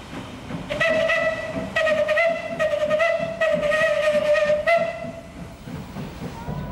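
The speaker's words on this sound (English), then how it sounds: "Old steam locomotives from another era are still used today by the sugar factories" Old steam locomotive whistle at a Cuban sugar factory, sounding in several sustained harmonic blasts over roughly four seconds, loud and fairly near, over a low rumbling and hissing rail background.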